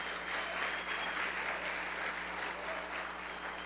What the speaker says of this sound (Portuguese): Você pode dar uma salva de palmas e se colocar em pé?